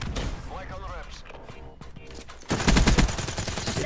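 Rapid automatic gunfire in Black Ops 3 multiplayer, a loud dense burst erupting after a stretch of quieter game sounds and a voice, continuing as sustained rattling shots to the end.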